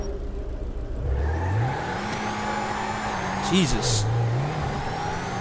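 An upgraded car from the video game GTA 5 revs hard, its engine pitch climbing, holding, then dipping and rising again in a sustained whine, loud and close, while someone talks over it.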